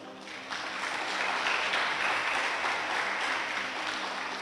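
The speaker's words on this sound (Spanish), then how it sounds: "Démosle palmas al Señor." A church congregation breaks into applause for the Lord during a Sunday sermon, a dense, steady wash of many hands clapping together that swells quickly and holds loud and even, with no talk over it.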